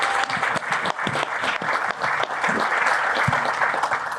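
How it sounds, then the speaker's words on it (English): An audience at a conference session claps for the speakers, a dense and sustained burst of many hands that stays full and even throughout, with no talk over it. "Let's give our speakers a round of applause."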